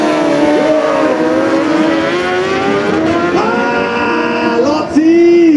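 A drag racing vehicle at Kunmadaras accelerates hard, its loud engine climbing in pitch through a series of rising sweeps and gear changes, with a final sharp rev near the end.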